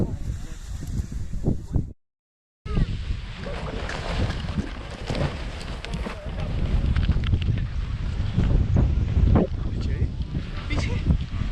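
Wind rushes and buffets hard against the microphone during a paragliding flight over Kalimpong, with gusty rumbling throughout and a brief dropout near the start.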